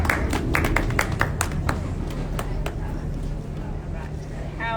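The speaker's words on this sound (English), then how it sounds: "Let's give her a round of applause" A small audience at an art fair demonstration gives a welcoming round of applause for a painter. A few scattered claps ring out clearly over a steady low room hum, then thin out and fade after a couple of seconds.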